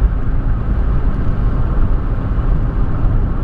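A police car speeds past on the road, heard from inside a vehicle as a steady, loud broadband roar of engine and road noise with no clear peak or fade, and no talking.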